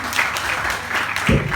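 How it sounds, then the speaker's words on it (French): A brief burst of audience clapping at a stage hypnosis show, dense and close, lasting under two seconds with a low thump near the end. "On peut l'applaudir très fort"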